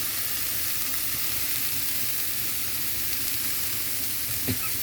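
Aratipuvvu curry fries in a pan with a soft, steady sizzle that never breaks, close and quiet with no talk. A faint clink sounds near the end.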